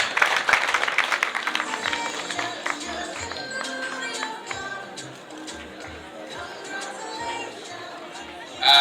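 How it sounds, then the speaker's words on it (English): An audience at a school prefects' handover party claps for an honored student, dense clapping loudest at first then thinning into scattered claps and crowd chatter, with voices murmuring throughout. "Hands clap, please."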